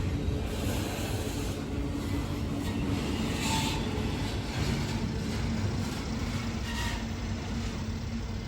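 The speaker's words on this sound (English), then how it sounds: "All right, good train. Intermodal with some semi-trailers." An intermodal freight train loaded with semi-trailers rumbles past near the Ohio River crossing into Cincinnati, a steady low roar with faint rhythmic clanks and wheel noise sustained throughout.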